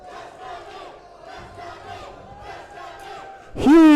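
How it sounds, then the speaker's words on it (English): A large crowd at an esports final roars and cheers continuously, with a sudden loud rising whoop near the end. "Huge crowd support for Destiny"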